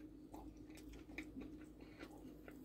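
Soft, close chewing of slightly crunchy rice, with irregular small crunches and mouth sounds over a quiet background and no speech.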